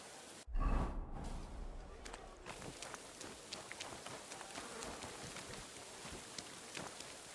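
Rain falls in the video game Kingdom Come: Deliverance 2 as a soft, steady patter with scattered light drop ticks after a brief thump at the start. It stays fairly quiet and constant.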